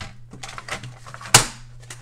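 Scissors snip through a paper envelope with a run of light clicking cuts, then one sharp, loud snap near the end, close and dry against a quiet room.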